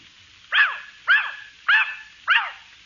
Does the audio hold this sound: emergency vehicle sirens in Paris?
no